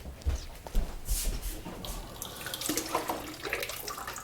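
Water from a tap splashes onto the damp wrapping around a germinating avocado seed, an uneven close-up gush with irregular spattering and soft thumps, no voices.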